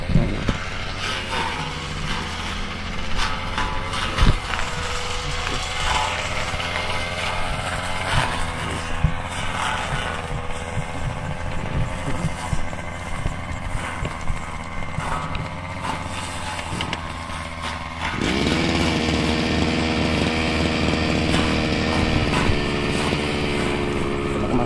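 A brush cutter runs steadily in a vegetable field among gourd and eggplant plants, its buzzing two-stroke engine droning nearby the whole time and growing louder and higher-pitched near the end.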